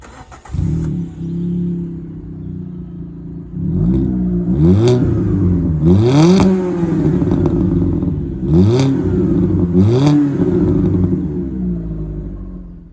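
A Fiat Panda 100HP engine cranks and catches, then idles with a raspy note and is revved several times in sharp bursts, loud and close.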